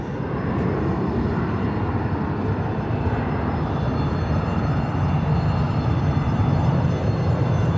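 A Southwest Boeing 737-900 airliner at Phoenix Sky Harbor gives off a steady, broadband engine roar that holds at an even level throughout, with no talking over it.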